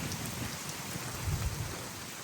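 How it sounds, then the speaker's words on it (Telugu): Rain falls on a farm field in a soft, even hiss with a few faint low thuds, steady and fairly distant for the whole short stretch. "మంచిగా పని చేసే టైంకి వాన అయితే పడుతుంది."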